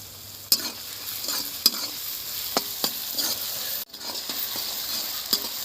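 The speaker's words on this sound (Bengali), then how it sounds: "পেঁয়াজটা হাফ ভাজা হয়ে গেছে" Onions, lightly salted, sizzle steadily in a pan for a snakehead fish curry while a utensil stirs and scrapes against the metal in sharp, irregular clicks.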